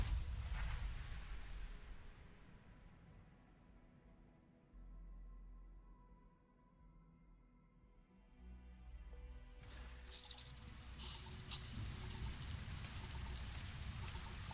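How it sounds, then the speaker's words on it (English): Steady broadband rain hiss falls across a landscape in the video game Starfield, a continuous soft wash that dips in the middle and swells louder again near the end, with no talking. "It's raining."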